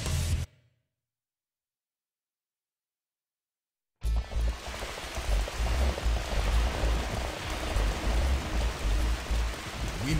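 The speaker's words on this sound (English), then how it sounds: "Then severe rains throw themselves at the castle walls." Heavy rain lashing castle walls in the Dynasty Warriors 3 video game, a dense steady hiss that starts abruptly after a brief sound and several seconds of silence, then continues loud and unbroken.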